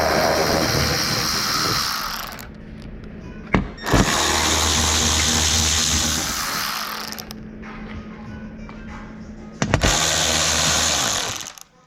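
A power tool whirs in several loud bursts with brief pauses between them while 10mm bolts come off the underside of a 2008 Porsche Cayenne Turbo; no voices.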